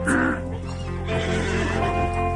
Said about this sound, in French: C'est un cheval de course.